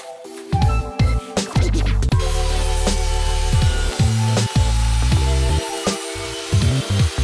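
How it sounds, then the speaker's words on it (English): A small table saw with a crosscut sled slicing a 12-inch wooden board down to 6 inches; the motor hums loudly and steadily while the blade bites through the wood in sustained whining bursts, with a few clunks between passes. "cut this 12-inch long board down to 6 inches by 12 inches using my small table saw sled"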